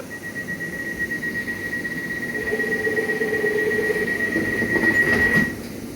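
A London Overground Class 710 electric train runs on the line to Gospel Oak with a steady rumbling roar, a sustained high-pitched whine and a rising squeal before the noise eases near the end.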